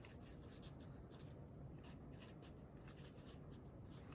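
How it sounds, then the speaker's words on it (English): Marker or chalk scratching across a board during a chemistry lecture, a steady run of close rubbing strokes filling the whole stretch with no voice. "let me write that"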